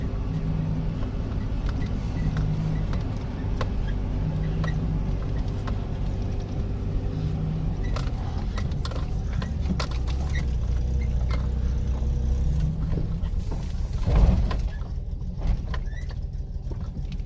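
A 1987 Nissan Pathfinder with a VG30i V6 converted to a Weber carburetor drives on a road, its steady engine and road rumble running continuously up close, with a brief louder thump near the end.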